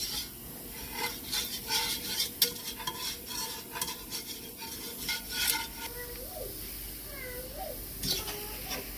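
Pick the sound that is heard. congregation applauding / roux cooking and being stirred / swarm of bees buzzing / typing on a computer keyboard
roux cooking and being stirred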